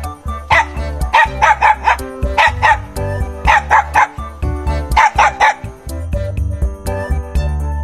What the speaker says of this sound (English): Puppy playing with dog.